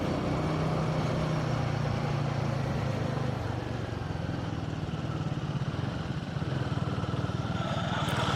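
Royal Enfield Guerrilla 450 and Himalayan 450 motorcycles riding on a hill road, a continuous engine and exhaust drone with wind rush, steady and fairly near, with no talk.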